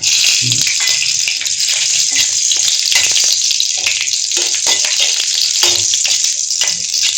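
Four green chilies hit hot oil as a tempering for Bengali dal, raising a loud, continuous hiss and crackle with a voice briefly heard over it.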